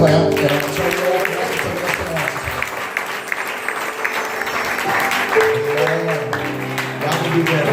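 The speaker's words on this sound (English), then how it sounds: "Let's give God's message another hand clap." A church congregation claps at a pastor's anniversary service, sustained warm applause filling the room, with voices and a speaker's talk running beneath and over it.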